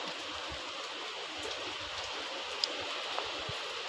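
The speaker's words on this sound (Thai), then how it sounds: "ฝนตก" Rain falls steadily in a continuous wash, with a few scattered drips and taps standing out now and then.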